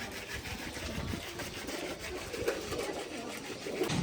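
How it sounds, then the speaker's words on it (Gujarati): Several pigeons coo softly in a steady murmur against a constant background hiss and low rumble, with the calls sounding close and continuous and no one talking. "હમણાં જ લઈ આવેલા આ બધા કબૂતર."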